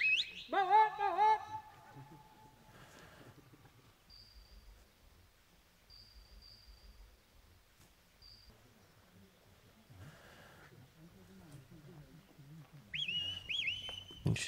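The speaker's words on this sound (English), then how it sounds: "They're calling whistles." A shepherd at a sheepdog trial in Bala blows sharp, high calling whistles to a working dog, with a few brief, distant blasts spread across a quiet field and a longer whistled call near the end.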